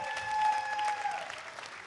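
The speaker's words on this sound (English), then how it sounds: "All right, a big applause." Audience applause at a tech camp event, a steady burst of clapping for nearly two seconds with a faint tone over it, moderately loud and thinning toward the end.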